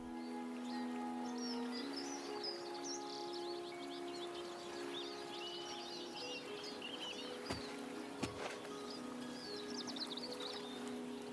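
Birds chirp in the video game Oblivion Remastered near the water. Small, faint twittering calls scatter through the background over sustained musical tones, with a couple of sharp knocks in between.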